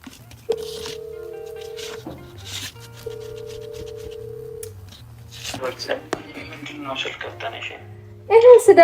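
An outgoing mobile phone call being placed, with two long, steady ringback tones separated by a short gap, over a low background hum and some voices.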